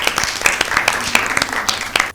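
Brief applause follows a correct answer on a Mother's Day Bible quiz show, a scattered patter of clapping with a few sharper claps standing out, moderately loud, with no talk.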